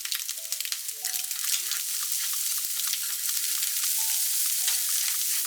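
Butter and salted kombu being mixed with maitake in a frying pan, a steady bright sizzle filling the background while a spatula scrapes and stirs; faint electronic tones sit over it throughout.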